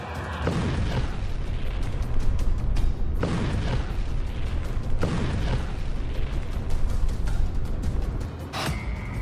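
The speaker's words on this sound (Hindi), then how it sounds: "जब यूक्रेन ने इस पर अपनी नेपच्यून एंटी शिप मिसाइल से हमला किया तो देखिए क्या हुआ" A Neptune anti-ship missile striking a warship at sea, a loud sustained roar of blasts and rumbling booms with several sharp surges, no voices.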